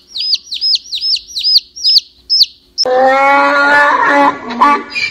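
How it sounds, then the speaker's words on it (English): A baby chick gives a run of six or seven high, evenly spaced peeping chirps, close and clear, before a louder, harsher chorus of other animal calls takes over. "Baby chick."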